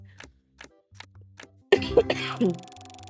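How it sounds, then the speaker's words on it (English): A dry cough bursts out loud and close after a few soft breaths and small sounds, a rough harsh cluster that fades quickly. "But this cough is a dry cough is the thing"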